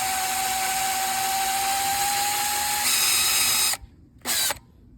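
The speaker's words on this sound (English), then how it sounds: "I'm lucky to have this drill press here in my garage" A drill press in a home garage bores a hole for a Fulton fold-away trailer hinge, giving a loud, steady motor whine with a high tone that cuts off abruptly, then a brief second burst of running.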